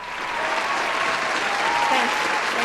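A graduation-party crowd cheers and applauds in a steady, dense wash of clapping and whoops that builds quickly and holds for a few seconds, close and loud.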